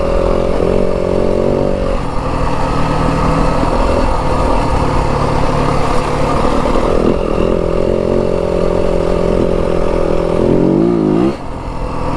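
A 2025 Yamaha WR 250F dirt bike ridden in fourth gear on a trail, its single-cylinder engine droning loud and steady, the pitch holding fairly constant before dipping near the end, heard with no talk.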